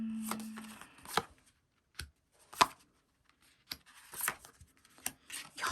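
Tarot cards are drawn from a deck in a quiet room, with soft scattered slips and snaps and short pauses between them.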